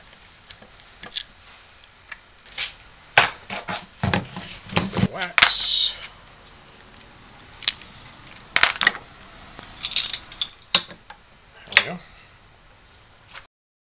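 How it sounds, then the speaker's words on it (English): Pre-waxed screws being driven into a hinge on a plywood hauling rack, heard as sharp, close metallic clicks, taps and brief scraping bursts spaced irregularly over the clip with quiet gaps between, and no talking. "Pre-wax the screws. Line it up so that the hinge tightens up this way. And go ahead and drive them in."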